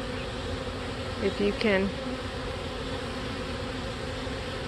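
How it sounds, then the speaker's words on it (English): A swarm of honey bees drone steadily while building new wax comb, a constant close buzz with a brief murmur of speech partway through. "that's a nice tidy little swarm"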